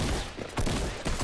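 An opponent in Fortnite fires a fast, rattling burst of gunshots. The shots come loud and continuous with a couple of sharper cracks standing out, and no talk is audible.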